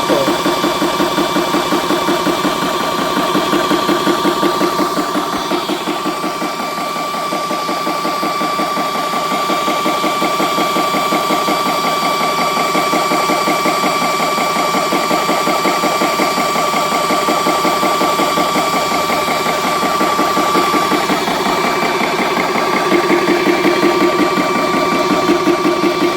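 A VEVOR PCP high-pressure air compressor runs steadily and loud nearby, a continuous mechanical hum with a fast pulsing chug from the pump that holds throughout without talk.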